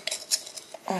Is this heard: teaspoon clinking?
yes